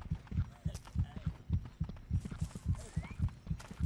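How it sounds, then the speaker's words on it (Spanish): Heartbeat effect in the video game Overlord, a steady, loud double-thump pulse repeating about twice a second throughout, with faint game sounds underneath and no talk. "Me está poniendo nervioso los latidos del corazón."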